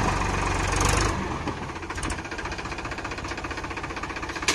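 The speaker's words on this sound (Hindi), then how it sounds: "ट्रैक्टर तो दम बहुत बढ़िया लगा रहा भाई" A Powertrac Euro 47 tractor labours to pull a fully loaded trailer stuck in soil. Its diesel engine roars loudly at first, then settles into a close, steady, rhythmic chugging throb.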